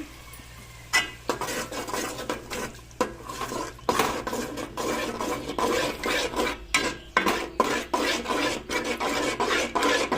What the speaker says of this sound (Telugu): ఇప్పుడు పెరుగు ఇందులో వేసి బాగా కలుపుకోవాలి